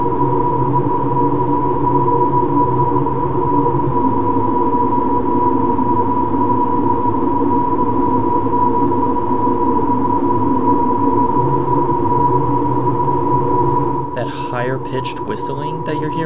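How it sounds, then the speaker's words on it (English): Steady electronic hum of sustained tones from sonified molecular vibrations, with a high whistling line above from the hydrogen atoms, continuous and loud, with brief fluttering higher chirps near the end. "Higher-pitched whistling that you're hearing is the hydrogen atoms of the molecule"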